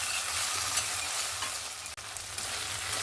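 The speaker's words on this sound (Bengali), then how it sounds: "এই আদা রসুনটাকেও ভালো করে পেঁয়াজ আর টমেটোর সঙ্গে ভালো করে একটু কষিয়ে নেব" Ginger-garlic paste sautéing with onion and tomato for a spicy crab curry, a loud, continuous close-up sizzle with occasional stirring scrapes of the spatula in the pan and no talking.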